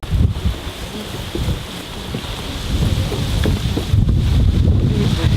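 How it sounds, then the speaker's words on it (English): Strong gusts of wind buffet the microphone outdoors in Auckland, a loud rumbling roar that swells and surges throughout with no voices. "It's kind of windy. You can hear it."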